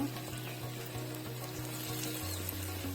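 Flat bean seed paste fries in a little oil over medium heat, giving a steady, close sizzle that runs unbroken with no talking over it.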